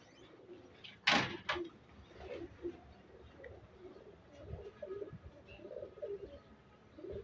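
A pigeon coos softly at close range in a loft in Kasur, a few low murmuring calls spread across the recording, with a sharp knock near the start and faint background noise.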